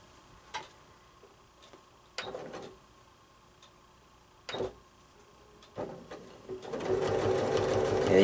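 A sewing machine stitches quilting lines on a Building Blocks quilt while finishing off a corner: a few sparse clicks and taps first, then the machine starts and runs steadily and fairly close through the final second and a half.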